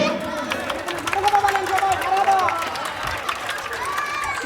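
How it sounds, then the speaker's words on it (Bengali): An audience claps at an Islamic cultural evening, a dense patter of hand claps mixed with crowd chatter and cheering, building and holding at moderate loudness through the moment. "একটু করতালি দেই"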